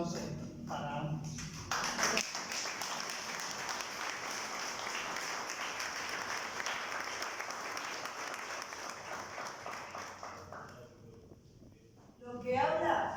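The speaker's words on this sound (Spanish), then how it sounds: "Les ruego por favor un cariñoso aplauso para ambos" An audience applauding at an academic humanism lecture, a sustained wash of clapping from many hands lasting several seconds, with a voice speaking briefly before and after it.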